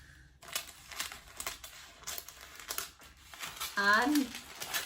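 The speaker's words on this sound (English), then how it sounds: "we've got our parchment paper lining. I'm gonna trim that" Parchment paper lining for a jalapeno cheddar focaccia pan is trimmed, giving crisp crinkling and rustling in short bursts, with a voice briefly audible near the end.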